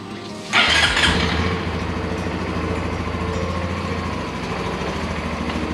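A Honda CT125 Hunter Cub motorcycle engine cranks and catches with a loud burst, then settles into a steady, close single-cylinder idle that runs on evenly to the end.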